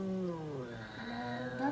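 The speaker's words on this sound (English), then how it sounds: "That's not the sound that a cat is supposed to make" Cartoonish cat vocalization from the Impossible Quiz video game, a warbling, howling caterwaul with wavering pitch lasting under two seconds, loud and alone with no talking.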